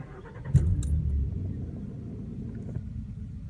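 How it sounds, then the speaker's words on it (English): A Nissan VQ40-engined car starts up after an ECU flash, the cranking catching at once into a loud low rumble that settles into a steady idle, with faint jingling on top. "So then I come over here and I can start my car up."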